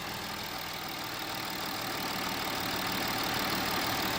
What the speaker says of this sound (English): we'll just start it up and we'll just have a little listen to that lovely V6 diesel